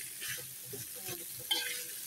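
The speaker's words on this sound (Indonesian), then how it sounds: "Selanjutnya kita aduk-aduk dulu" Boiled cow skin (kikil) is stirred in a pan with a spoon, giving a few gentle scrapes and wet sloshing over a light sizzle, close and quiet.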